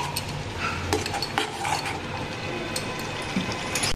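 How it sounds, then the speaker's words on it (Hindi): Red chilli powder, salt and turmeric stirred into a dal tempering mix, a dense continuous scraping and rattling of a spoon in a pan, close and busy for the whole stretch with no talk. "सभी को हम इसमें डाल देंगे और अच्छे से मिक्स कर लेंगे"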